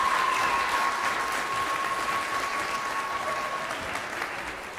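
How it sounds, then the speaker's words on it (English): Middle and high school recital audience at a Christian school claps loudly and continuously after the piano students' first half, a dense, even roar of applause that tapers a little toward the end, with a faint tone running through it. "Could we get another round of applause for the first half?"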